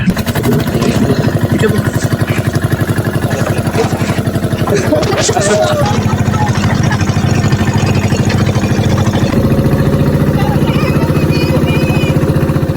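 A boat's motor runs steadily throughout, a loud continuous mid-pitched engine drone with a rapid regular pulse, close by, with faint mixed background noise and no clear speech.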